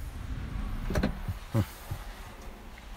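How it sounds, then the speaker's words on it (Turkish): Electric seat of a Mercedes A180 D Style sliding backward inside the quiet cabin: a few short, muffled motor whirs in quick succession, close by and fairly soft. "müsaade ederseniz şu koltuğumu biraz geriye almak istiyorum"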